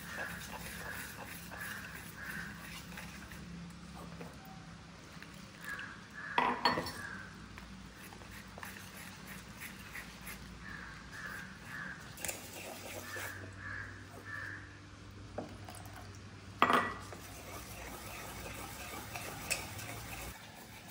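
Besan (gram flour) batter with water for dhokla is stirred in a bowl, giving faint scraping and clinking of a spoon, while crows caw in the background.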